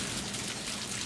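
Steady rain falling during a winter weather report, a dense continuous hiss of drops close to the microphone, loud and even throughout with no voices.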